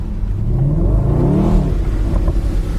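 A powerful racing car engine revs hard, its loud deep roar climbing in pitch then easing back, heard up close.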